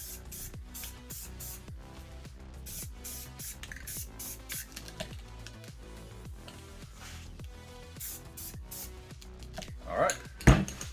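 Light coats of spray paint go onto PlayStation 5 console panels in a rapid series of short, close hissing bursts with a steady rhythm. A louder clatter of handling noise comes near the end.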